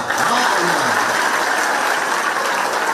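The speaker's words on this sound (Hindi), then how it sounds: "एक बार हमारी प्राची बहन के लिए ताली बजा।" A large crowd of students at a college gathering claps steadily for a classmate, making a dense, even roar of applause that lasts about three seconds; a voice briefly sounds at the start.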